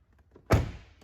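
A Chevrolet Tahoe car door shuts with a single solid, close thunk that dies away quickly, with no talk over it.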